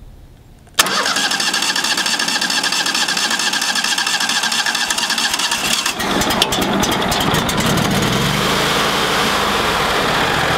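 A tractor engine with a fault that lets it run but not restart cranks and catches abruptly, then runs loudly and roughly at a steady idle, close by, with its rattle rising partway through.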